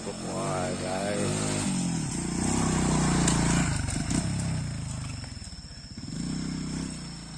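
Two motorcycles, one of them worn and rattly, ride along a rough extreme palm oil plantation road, their engines droning steadily and close with some revving, while someone talks over the noise.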